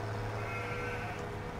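Sheep bleating in the farming game Farming Simulator 17, Pacific Northwest map, a steady continuous bleat-like tone sitting over a low background hum for the whole short stretch, no talk.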